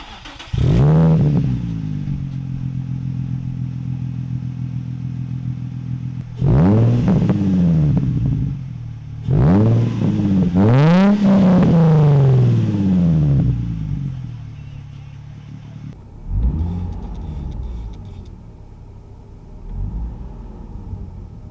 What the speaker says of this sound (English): with this new exhaust on here, it's pretty quiet